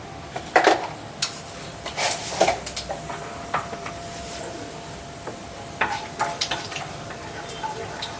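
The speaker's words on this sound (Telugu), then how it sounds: "నూనె అయితే కాగింది. తాలింపు గింజలు అయితే వేసుకుందాం." Tempering seeds hit hot oil in a kadai and crackle in short bright bursts, with a pot knocking now and then. The sizzle comes in clusters near the start, middle and end, and the kitchen is otherwise fairly quiet.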